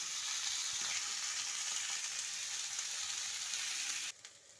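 Steady, dense sizzling of chickpeas frying in a hot pan, continuous and close, cutting off abruptly near the end.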